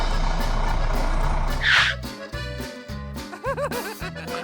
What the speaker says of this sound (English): Mr. Bull's brother arrives with his tow truck.